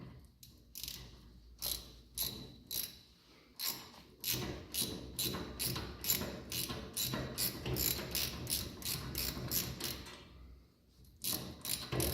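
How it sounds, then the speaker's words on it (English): Lift pin on a Worth Model 12000WT lift being loosened with a 4mm Allen key and an 11mm wrench, giving a close, steady run of sharp metallic ratcheting clicks in rapid bursts, pausing briefly before resuming. "4mm Allen and an 11mm wrench and remove this bottom pin."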